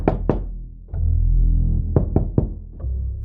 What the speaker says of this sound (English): I leaned towards the wall, hesitated, then knocked 3 times in rhythm.